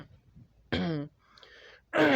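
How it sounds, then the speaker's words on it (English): Two short, harsh throat clearings from a man reviewing a film, close to the microphone, separated by a brief pause with faint background sound between them. "Sorry about clearing my throat."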